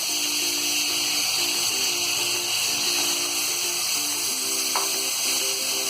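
Potatoes frying in a pan with turmeric and green chili, a steady loud sizzle hissing continuously throughout, with faint occasional stirring scrapes beneath.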